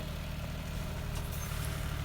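A tractor engine runs steadily in a field where soil is being banked around potato rows, giving a constant low, even rumble throughout with no voices.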